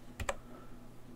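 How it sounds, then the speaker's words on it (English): A computer keyboard pressed to copy a website address with Control C, two quick close clicks in succession, faint against a quiet background. "highlight it, and press"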